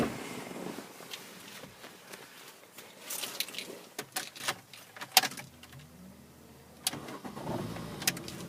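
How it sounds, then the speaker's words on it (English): A red Mini Cooper 1.6 hatchback starts up: clicks and clunks from inside the car, then the engine cranks, catches and settles into a steady idle, recorded close. "As you can hear, no problem starting the vehicle at all."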